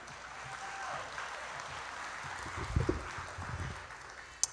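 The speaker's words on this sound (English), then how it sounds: "Please join me in welcoming Shelly to the podium." An audience at an adult basic education HSE graduation ceremony in 2022 applauds to welcome a speaker to the podium, a faint, steady clapping from a distant crowd.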